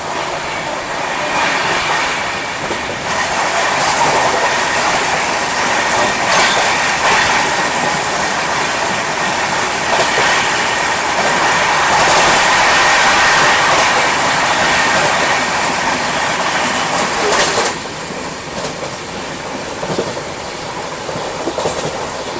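Steady roar of the Pune Duronto AC express running nonstop at speed between Nizamuddin and Kota, heard from aboard with continuous loud rumble, wheel clatter and rail hiss, a few brief swells and dips throughout.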